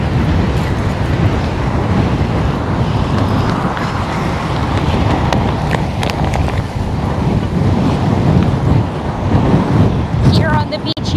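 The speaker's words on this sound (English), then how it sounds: "it's very windy and you can't really go swimming because the current is too strong." Strong wind buffets the microphone while surf roars steadily on a windy beach at a resort in Nassau, Bahamas, a dense continuous rush; a voice speaks over it.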